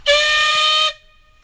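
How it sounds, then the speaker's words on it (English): A single loud steam whistle blast from the Dolgoch steam locomotive on the Talyllyn Railway, held steady for almost a second and then cut off, close by with no talk. "Before you blow the whistle."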